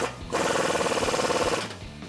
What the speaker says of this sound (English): now we're gonna retighten the bolt that's attached to the lower end of our strut